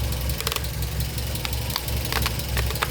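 Audi 80 B2 engine idling from a cold start during a spark plug change, a steady close rumble with a loud low drone and scattered ticking knocks, continuous throughout without talk.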